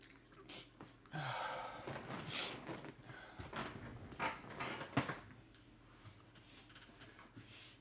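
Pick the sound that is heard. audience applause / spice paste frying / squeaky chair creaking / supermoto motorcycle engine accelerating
squeaky chair creaking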